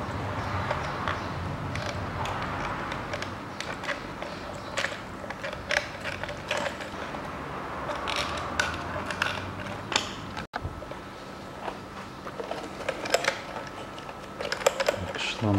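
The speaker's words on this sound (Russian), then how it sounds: "Надеваю на место шланг." Rubber fuel hose being pushed back onto a replacement fuel pump of a 2010 Lada Kalina 1118 1.4, giving scattered close creaks, clicks and small mechanical knocks with light handling noise and no speech.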